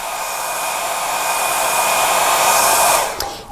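Close, loud hair dryer blowing steadily to quick-dry paint on an artwork, a constant whooshing hum with a thin whine that swells slightly before cutting off near the end.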